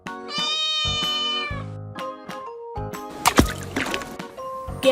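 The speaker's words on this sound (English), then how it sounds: "Cat." A cat meows in a series of drawn-out, tonal cries, loud and close, with a few short thumps and clicks in between and no talking.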